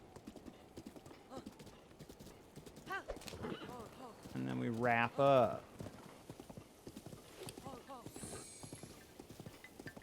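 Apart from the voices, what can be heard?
horse hooves clip-clopping and neighing in Zelda video game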